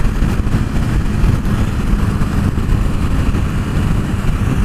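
A KTM 1290 Super Duke R motorcycle engine pulls hard at around half throttle with a loud, continuous low roar that stays strong and close for the whole stretch, no voices over it.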